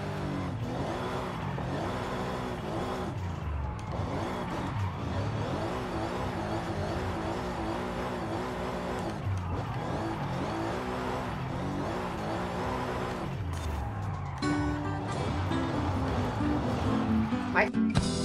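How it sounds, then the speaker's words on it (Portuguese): A car drifts in the Forza Horizon 5 racing game, its engine droning and revving continuously under steady talk, with a brief tire squeal near the end. "Fazer drift aqui, rapaziada. Ainda mais sem simulador é muito difícil."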